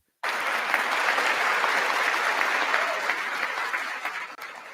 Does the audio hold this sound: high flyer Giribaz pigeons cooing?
no